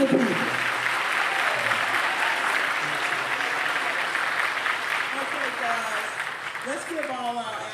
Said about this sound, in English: Let's give all our frontline activists a big round of applause.